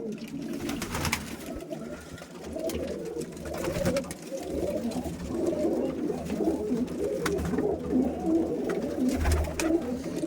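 Pigeons coo close by in a fancier's flock, with repeated soft, throaty calls overlapping one another against a low background murmur.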